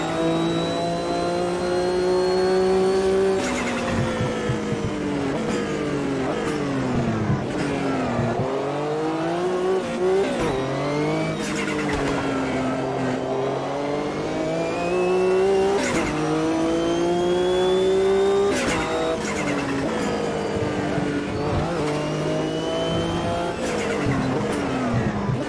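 Race car engine in Automobilista 2 during a World Sportscar Championship race, loud and continuous, revving up and down through gear changes with rising and falling pitch and occasional tire squeal, no talking.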